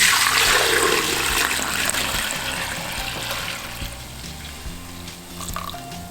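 Homemade bone broth pours through a coarse mesh strainer in a steady, close liquid rush, fading slightly toward the end.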